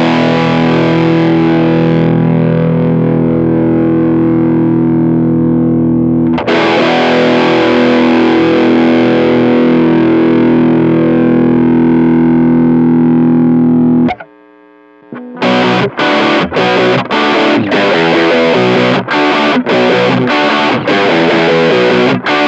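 A heavily distorted electric guitar through a high-gain distortion pedal sustains loud, buzzing chords, then breaks into a choppy run of short, crunchy stabs after a brief pause.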